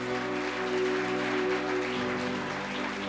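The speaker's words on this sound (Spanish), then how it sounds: "bríndale ese fuerte aplauso." A church congregation applauds during a Spanish-language sermon, a steady wash of clapping blended with sustained organ or keyboard chords underneath, moderately loud and continuous.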